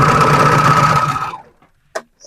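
A sewing machine runs steadily stitching stretchy legging fabric, a dense continuous whirr for over a second before stopping, followed by a brief clunk of the needle or presser foot being raised.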